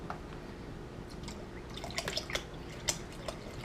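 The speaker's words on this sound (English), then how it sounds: "Now I'm going to add some more water to this." Spring water is poured into a pot of homemade chicken soup, giving soft splashing and dripping that grows into scattered louder drips toward the end, quiet and close.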